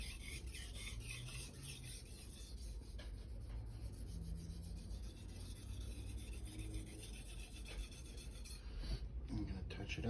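A knife is drawn again and again across a Naniwa 1000/3000 grit combination whetstone, making quiet, rhythmic rasping and scraping strokes that run through the whole stretch with no talk.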